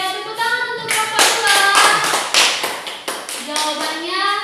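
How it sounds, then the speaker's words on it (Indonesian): A class applauds a student group during a grade 5 lesson, a burst of many hands clapping for a few seconds, mixed with children's voices and cheerful chatter. "tepuk tangan untuk kelompok"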